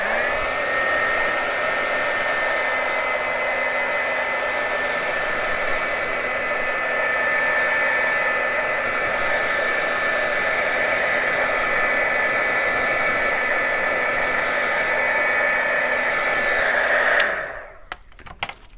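A hair dryer blows on alcohol ink on a glassine craft bag, a loud steady close whine and rush of air running without break before it cuts off near the end, followed by a few light handling knocks.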